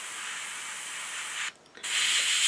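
An airbrush sprays camouflage paint onto an Eduard Spitfire scale model, giving a steady, close hiss that pauses briefly midway and then resumes.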